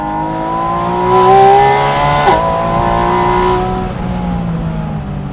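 A Porsche Boxster Spyder RS engine pulls hard and loud through rising revs, briefly dipping at a gear change before climbing again and easing off toward the end, with no voices.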